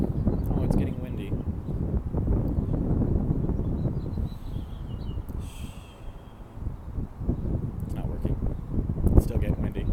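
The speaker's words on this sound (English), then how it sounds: "take the microphone away from here where it's vibrating from all the wind" Heavy gusting wind buffets the microphone, a rough low rumble that swells and fades throughout, with a few faint rustles on top.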